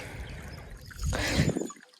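Rainwater flowing across a village farm after heavy rain, a soft steady trickle that swells louder for a moment before cutting off.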